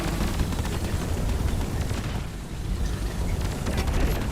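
A dense, continuous blast of explosive noise from the video game Deep Rock Galactic, with a thick rumbling low end and crackling highs that stays loud throughout, dipping briefly midway before surging again.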